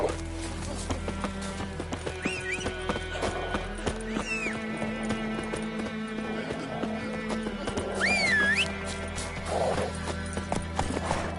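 Horse hooves clip-clop at a steady pace in the video game The Witcher 3, with several high whinnies rising over the hoofbeats. The sound is close and continuous, with no talking.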